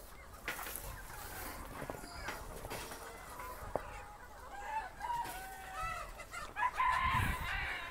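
Chickens cluck and a rooster crows in a poultry farm shed, a steady mix of bird calls at moderate distance that grows louder and busier toward the end, with a faint voice underneath.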